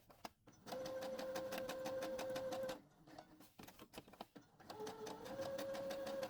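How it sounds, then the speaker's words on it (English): A sewing machine stitches around the markings of an Easter bunny plushie, two bursts of fast rhythmic whirring and clattering separated by a short pause with light handling clicks, fairly faint and close. "you want to make sure that you slow down your machine and work around the curves"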